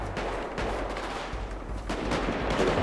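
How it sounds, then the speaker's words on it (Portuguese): Gunfire in a GTA 5 roleplay shootout: a dense, continuous rattle of shots with muffled booms and scattered cracks, moderately loud and steady throughout with no clear pauses. "Ele vai atirar agora."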